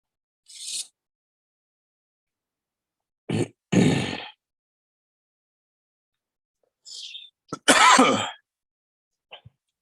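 One person coughs and clears their throat in several separate close bursts, two fuller rough coughs and a few shorter throaty grunts, with silent gaps between them.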